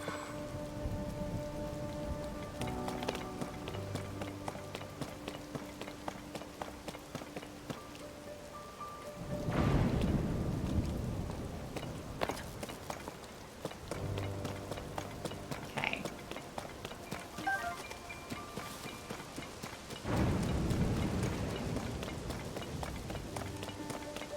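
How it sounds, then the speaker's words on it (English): Steady rain pours in a video game, with two deep thunder rumbles rolling in about ten seconds apart over a constant hiss and a faint tonal background. "I know it's raining, so maybe now's not a good time to try to get in."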